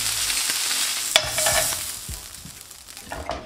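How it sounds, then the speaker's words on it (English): Tandoori chicken wings sizzle and crackle on a grill in a steady, close frying hiss with occasional soft clicks and shifts. "we're going to grill the next batch of our wings"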